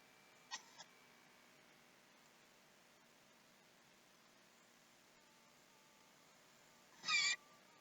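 A cat gives two short, faint meows near the start, then a louder, longer meow near the end, with long quiet stretches of soft background hiss in between.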